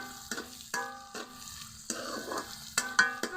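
Onions fry in oil, sizzling loudly in a pan, broken by a series of sharp stirring scrapes at uneven intervals.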